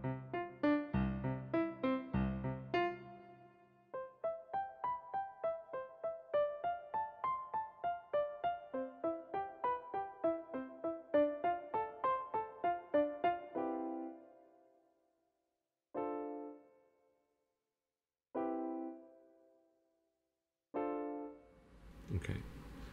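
A piano sound played from a controller keyboard: quick rippling arpeggios rise and fall, then a handful of separate sustained chords ring out with silences between them, quiet and close.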